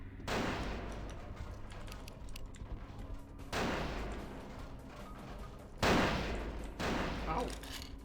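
Gunfire in Vampire: The Masquerade Bloodlines: three bursts of heavy, booming shots, each followed by a sustained rolling rumble and crackle, with dense game noise throughout and no clear speech.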